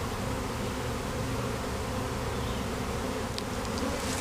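A swarm of honey bees fills the air with a dense, continuous buzzing hum that stays close and steady throughout, with no voices.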